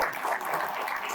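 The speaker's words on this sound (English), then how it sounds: "Let's hear a round of applause for all of our morning panelists." An audience at an anniversary luncheon applauds the morning panelists, giving sustained, even clapping from a roomful of people at moderate volume with no speech on top.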